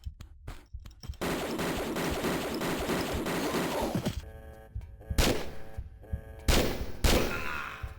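Gunfire in the video game Tomb Raider III Remastered: a short cluster of sharp shots, then a sustained noisy rattle for several seconds, followed by a few separate heavy, punchy blasts with ringing tails.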